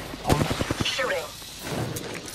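Video game gunfire, a quick burst of sharp shots in rapid succession near the start, followed by softer game effects and a brief voice.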